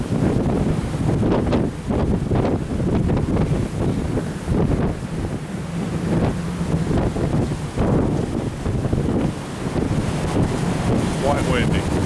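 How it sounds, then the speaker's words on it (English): Strong wind roars across the open deck of the cruise ship Harmony of the Seas during Hurricane Milton, a steady, close buffeting rush into the microphone with a wash of sea and waves beneath it for the whole stretch. "Quite windy."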